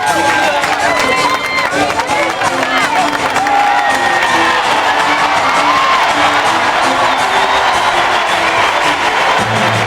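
A large New York crowd at a night session of the 1992 US Open tennis tournament roars and cheers continuously, a dense, loud wash of shouts and whoops sustained throughout with commentary-like voices mixed in.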